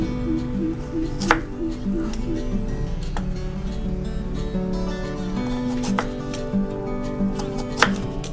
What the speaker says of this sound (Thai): เสร็จแล้วให้เราทำการหั่นเป็นชิ้นเต๋าแบบนี้นะคะ